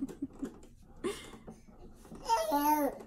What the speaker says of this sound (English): you may hear some baby noises in the background